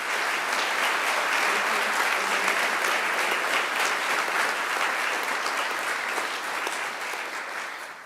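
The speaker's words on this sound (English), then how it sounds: "let's give them a big round of applause" A large audience at a university graduation ceremony gives the graduates a big, sustained round of applause, thick continuous clapping that holds steady and eases slightly toward the end.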